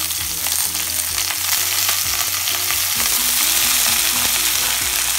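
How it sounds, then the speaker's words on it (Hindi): Potatoes tipped into a pan of frying onions for aloo fry, giving a loud, steady sizzle with bursts of stirring and clinking throughout, close up and with no voices. "प्याज फ्राई हो चुका है। अब हम इसमें आलू डाल देंगे।"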